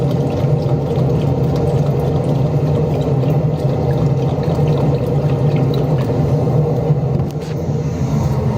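Water poured into a cooking pot holding carrots, a steady broadband rush with low rumble running continuously and fairly loud throughout, easing slightly near the end.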